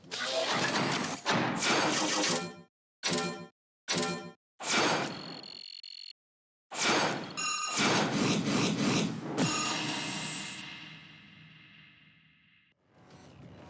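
Explosions in the video game Yaiba: Ninja Gaiden Z, heard as loud broadband bursts broken by short silences, then a long roaring blast that slowly fades.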